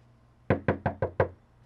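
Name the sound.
knocking on a door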